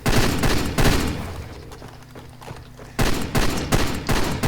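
Enemy gunfire in the Far Cry 2 shooter, with dense bursts of rapid shots near and loud at the start, a brief quieter lull, then more volleys of gunfire, no talking.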